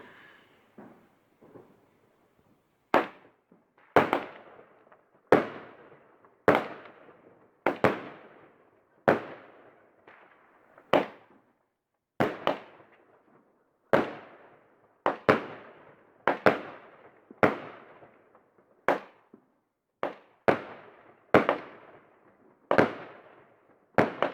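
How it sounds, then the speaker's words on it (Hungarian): New Year's fireworks burst repeatedly in the distance, a long irregular series of sharp booms and cracks, each trailing off into a rumbling echo in an otherwise quiet night. "volt tűzijáték, ezt fogjátok most látni."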